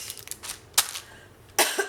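Two sharp coughs, one near the middle and a louder one toward the end, with quiet room noise between.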